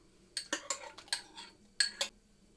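A utensil stirs milk, eggs and sour cream in a bowl for apple-jam pastry dough, making a few light scraping clinks against the bowl, quiet and close, with no voices.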